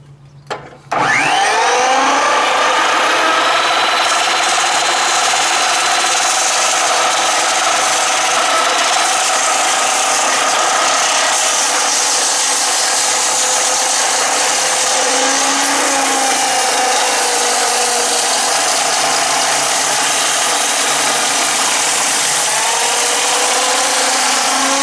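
A loud power saw cuts through timber in one long continuous whine that starts abruptly and runs steadily at close range, with the pitch dipping slightly now and then under load and no speech.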